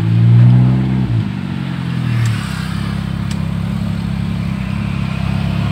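A Suzuki Ertiga car with a modified exhaust roars loudly as it speeds past, a strong low rumble that drops in pitch and then holds as a steady close droning growl.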